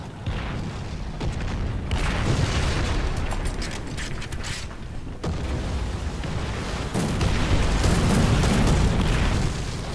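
Artillery fire in the War Thunder tank game, heard as dense, rumbling low booms and blasts that continue throughout, with mechanical clatter layered over a constant battlefield din.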